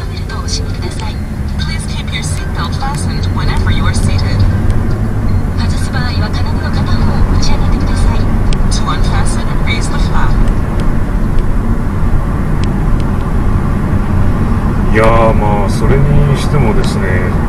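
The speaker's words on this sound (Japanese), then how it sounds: "ちょうど今ねエアコンが壊れて止まりましたね" A bus air conditioner hums and drones steadily under road noise while riding toward Shichinohe-Towada Station, the unit faulty and switching on and off, with a voice speaking near the end.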